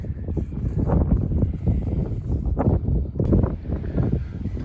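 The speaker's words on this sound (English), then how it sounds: "Well, it's real windy today," Strong gusty wind buffets the microphone on the roof of a 100-year-old building, a steady loud rumble with surges rising and falling, no voices.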